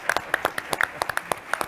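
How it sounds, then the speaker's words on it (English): Scattered clapping follows a talk at a summit, a thin round of individual, distinct hand claps in a loose irregular rhythm, close and fairly clear. "I think she deserves a round of applause."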